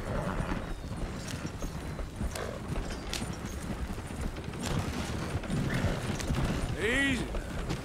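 Horse hooves galloping in the video game Red Dead Redemption, a continuous loud drumming of hoofbeats with a short whinny near the end and someone talking over it.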